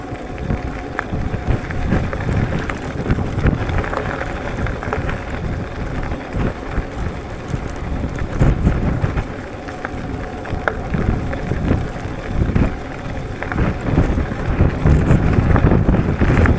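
Strong gusty wind buffets the microphone while riding a Wooken e-bike in bad weather, a loud, continuous rough roar that surges and fades throughout.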